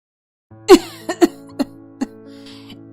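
A woman coughs in a short fit, one strong cough followed by four smaller ones in quick succession, close and clear against quiet.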